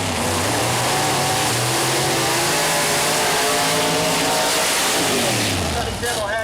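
Nitrous Pro Mod drag cars, including a Pontiac Grand Am, roar loudly at Mooresville Dragway with a sustained engine drone and rising revs under continuous announcer talk.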